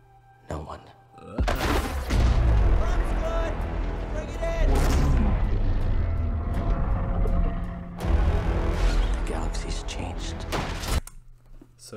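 A Republic ship shot down in a Star Wars Jedi: Fallen Order trailer, with heavy, loud booming explosions and crashing impacts in two long bursts, music and effects swelling between them.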